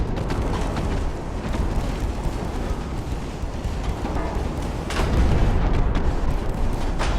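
Dull booming blasts of torpedo hits on warships in the naval strategy game Ultimate Admiral: Dreadnoughts, a heavy rumbling bed with a sharper, louder burst near the end.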